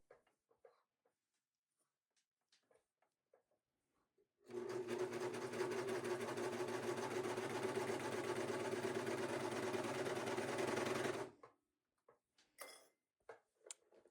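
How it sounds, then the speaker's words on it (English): A serger runs continuously for about seven seconds, a steady loud mechanical whir stitching the sides and bottom of a quilted fabric bag together, with quiet handling noises before and after. "I decided to use my serger for this part"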